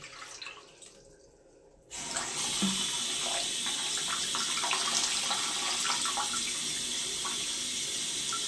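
A tap is turned on after a quiet moment, then cold water runs in a steady, close rush that continues to the end.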